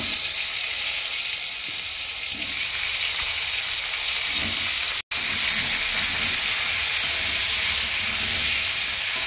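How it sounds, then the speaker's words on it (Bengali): Bottle gourd and potato pieces frying in oil with bay leaf make a loud, continuous close-up hiss and sizzle, cut by a single abrupt break midway. "লাউ আলু আমি ভালো করে ভেজে নেব।"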